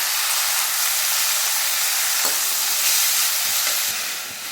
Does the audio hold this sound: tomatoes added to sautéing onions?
yes